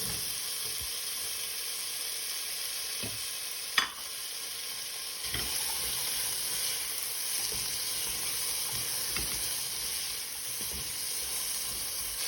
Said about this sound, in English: Once you saute your potatoes and carrots for about 3 to 4 minutes